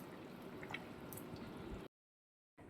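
A papaya, potato and prawn curry simmers in a pan, giving soft steady bubbling and light dripping, quiet and close, before cutting briefly to silence and resuming.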